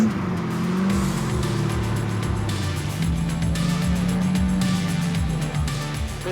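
A trophy truck drives around a track, its engine droning loud and steady throughout and rising and falling in pitch as it changes speed, heard close with no break.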